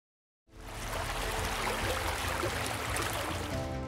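Water bubbling and gurgling up out of the sand in a desert, starting abruptly after a moment of silence and then running as a continuous, fairly loud churning rush.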